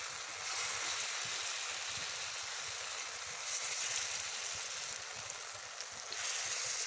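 Banana flower koftas, made with cauliflower and potato, fry in hot oil with a steady, even sizzle and bubbling that holds throughout. It swells briefly in the middle, then dips slightly before coming back.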